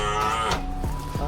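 A small calf moos in a few drawn-out, bending lowing calls, close and fairly loud, with no talk.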